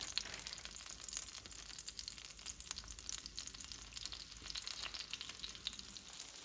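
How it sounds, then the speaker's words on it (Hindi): Chicken chapli kababs fry in a pan with a soft, continuous sizzle and fine crackling spatter, fairly faint and steady throughout with no voices. "जो बाकी रह गए उनको भी फ्राई कर लेते हैं।"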